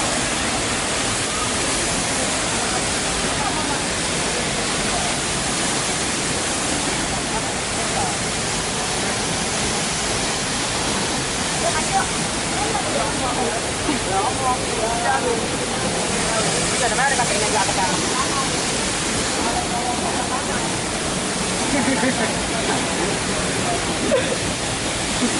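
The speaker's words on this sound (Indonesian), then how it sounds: "Air terjunnya. Air terjun Karunggang." The Karunggang waterfall pours as a loud, continuous broadband rush that stays steady and close throughout.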